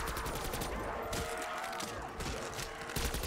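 Sustained gunfire from a zombies video game, a dense continuous burst of rapid shots layered with game noise, loud and steady throughout with no talk.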